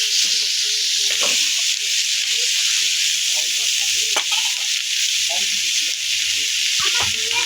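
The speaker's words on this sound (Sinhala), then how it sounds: "මේ විදිහට හොඳට හැඳි ගාලා හොඳට කලවම් කරගන්න ඕනේ." Fish being stirred with a spoon into a spice mixture frying in a pan, giving a continuous loud sizzle broken by repeated spoon scrapes, with faint talk in the background.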